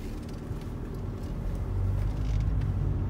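A car drives along a Norwegian road toward Lærdal Tunnel, the country's longest, with a steady low engine and road rumble that swells slightly louder partway through, close and continuous with no talk.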